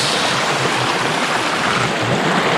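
Water from the spout at Watu Lumpang waterfall on the slopes of Merbabu, Boyolali, pours in a steady, dense rushing roar, close and continuous, with no voices.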